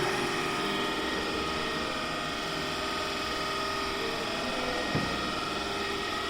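A DC shunt motor runs steadily at about 1250 RPM on a 200-volt armature supply, giving a constant broadband mechanical hum with a faint tonal whine and one brief thump near the end, with no voices.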